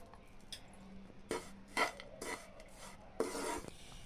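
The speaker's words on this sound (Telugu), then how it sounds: "ఇందులో ఒక స్పూన్ నెయ్యిని వేసుకొని కలుపుకోవాలి." Spoon scraping and rubbing through wheat flour with jaggery and ghee in a pot or bowl, a few quiet scattered strokes with small clinks against the vessel, close and without speech.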